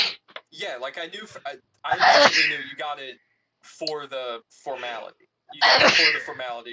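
Two loud, sharp sneezes burst out a few seconds apart while people talk in between.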